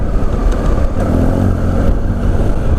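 A 2018 Triumph Tiger 800 XRx engine hums steadily and loudly while riding in sixth gear at low speed, with rushing wind noise throughout.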